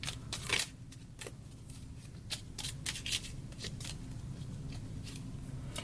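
Oracle cards shuffled by hand, a run of quick papery riffles and soft slaps close up, with a brief pause before a card is drawn.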